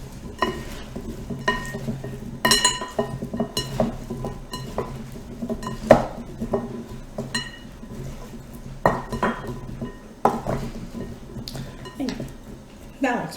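A spoon stirring a vegetable mixture in a bowl for cream of vegetable soup, with soft scraping and irregular clinks against the bowl, close and fairly quiet, under a low background.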